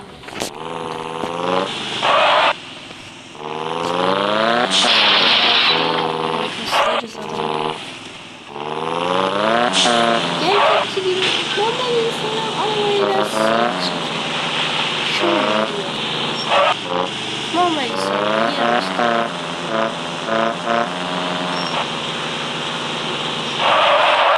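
A car engine in a driving video game hums and rises through repeated revs and gear changes, steady and fairly loud for about twenty-four seconds under game sounds.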